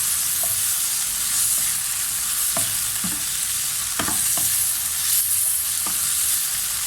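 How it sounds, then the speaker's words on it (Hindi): Chicken with salt and black pepper sautéing in a pan, a steady loud sizzle running throughout while a spoon scrapes and taps at irregular intervals, no voices. "2 से 3 मिनट तक मैं इनको अच्छी तरह से सौते करूँगी इसके अंदर"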